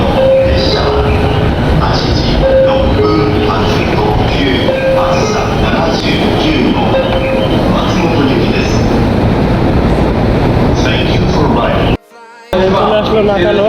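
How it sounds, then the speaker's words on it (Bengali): A Tokyo commuter train runs toward Nakano, loud and close, its wheels rumbling and squealing with clicking rail joints; faint voices and chimes sound over it, with a brief dropout near the end. "টু লাইন ট্রেনে করে নাকানোতে।"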